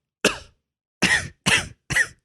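Four sharp coughs from one person, close and loud, the first alone and then three more in quick succession after a short pause.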